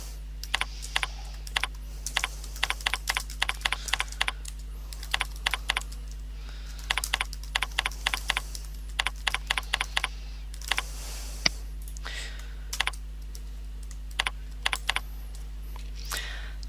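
Steady typing on a computer keyboard while filling in class details on a blogging site, clicky close keystrokes in irregular bursts with short pauses, alone over a faint constant hum.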